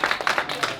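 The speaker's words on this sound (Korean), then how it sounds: "우리 3년 동안 고생한 우리 모두에게 박수 한번 칩시다." A crowd of youth-group worshippers claps together in a church service hall, a dense, steady patter of many hands that rises and falls in a brief burst.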